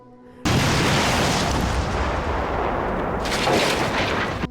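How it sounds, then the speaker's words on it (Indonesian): A sudden loud blast followed by a long rumbling roar of debris and echoes that slowly fades, with a second swell of crackling noise later. "Hancurlah jembatan tersebut beserta dengan orang yang menghancurkannya."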